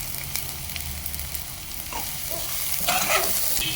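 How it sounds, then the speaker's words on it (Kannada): Capsicum and onion sizzle in a pan for a sprouts and vegetable curry, a steady moderate hiss with a few soft stirring scrapes near the end, and no voices. "ಕ್ಯಾಪ್ಸಿಕಮ್ಮು ಚೆನ್ನಾಗಿ ಫ್ರೈ ಆಗಿದೆ"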